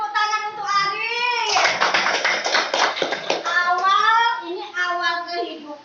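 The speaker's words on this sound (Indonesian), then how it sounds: "tepuk tangan untuk Ari" Primary-school children in an Indonesian classroom break into a burst of clapping for a classmate named Ari, lasting a couple of seconds between stretches of talking.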